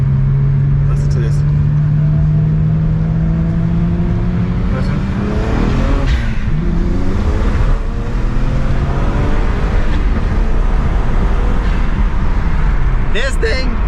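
A salvaged BMW 1M, Stage 2+ tuned by MHD, accelerates on a wet road, its engine loud and close as it rises through the revs with a couple of gear changes and a steady roar throughout.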